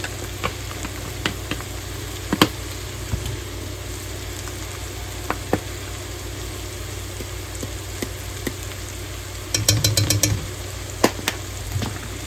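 A sizzling dirty rice mixture with pepper and cayenne in a pan, steady low frying hiss with scattered clicks, and a brief burst of rapid stirring scrapes near the end, close up with no talking.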